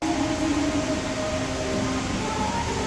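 Train arriving at an intercity rail station in Indonesia, a steady loud broadband rumble and hiss of the approaching train with faint tonal whine, continuous throughout.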